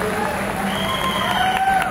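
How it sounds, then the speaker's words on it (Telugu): An audience at the Hyderabad Go Crown 2025 event gives a round of applause, a dense steady patter of clapping and crowd noise with a voice speaking over it. "ఒక్కసారి గ్రేట్ రౌండ్ ఆఫ్ అప్లాజ్ అండి"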